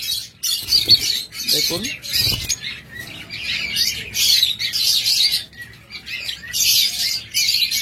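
Pet cockatiels and lovebirds chirp in bursts of shrill, repeated tweets, close and loud, with a voice briefly speaking beneath them.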